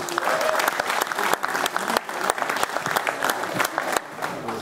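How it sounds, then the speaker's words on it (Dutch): An audience at a Dutch amateur football club ceremony applauds Excelsior '31 from Rijssen, giving steady, dense clapping throughout with sharp individual claps standing out. "Nogmaals een applaus voor Excelsior 31 uit Rijssel"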